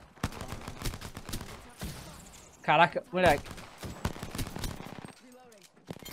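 Rapid pistol gunfire rattles in the video game Apex Legends, quick sharp shots in bursts under steady excited talk, with two louder bursts near the middle.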